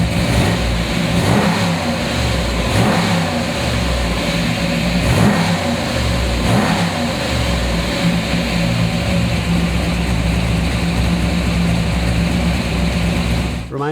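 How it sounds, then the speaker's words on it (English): A 1962 Chevrolet Impala SS 409 V8 runs steadily close by, a busy mechanical clatter from its solid lifters ticking over a low rumble, with a few brief revs swelling through and a voice talking over it. "Now listen to the solid lifters of the engine. You hear them clacking away, which to me is like music."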